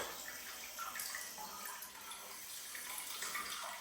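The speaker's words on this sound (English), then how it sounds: "Let's check the bidet wash." Warm-water wash nozzle of a heated smart bidet toilet seat spraying steadily, a close, continuous hiss of water without pause.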